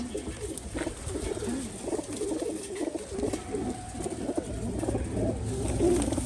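Pigeons in a cage coo softly and repeatedly over a steady, noisy background hum.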